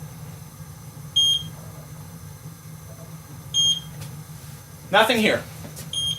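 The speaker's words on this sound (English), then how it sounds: "it's going to continue beeping like this, just letting you know it's ready to test" An E Instruments Model 7899 mini gas leak detector, ready to test after auto-zeroing, emits short high-pitched beeps at regular intervals, about every two and a half seconds, over a low hum, with a brief spoken phrase between beeps.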